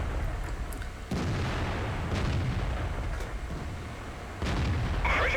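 FV304 self-propelled artillery in a tank video game fires heavy booming shots, with a sharp blast near the start and another near the end over steady loud battle rumble.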